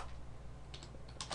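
Keys click on a computer keyboard, a few quick faint taps in two small bursts over a steady background hum.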